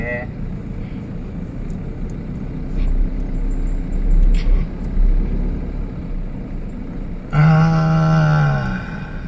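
A vehicle driven in too high a gear at low revs shakes along with a steady, low engine rumble and rattling. Near the end a louder voice-like burst cuts in over it.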